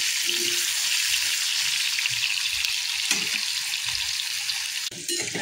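Potatoes frying in hot oil with whole-spice tempering for an Odia curry, a steady loud crackling sizzle close up, with brief stirring scrapes and no talk.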